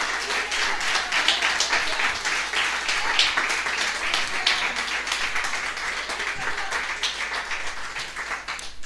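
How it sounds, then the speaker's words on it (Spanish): Steady, dense applause from a church congregation during a Sunday service, many hands clapping continuously at fairly close range with a faint voice or two mixed in. "Denle un aplauso al Señor, por favor."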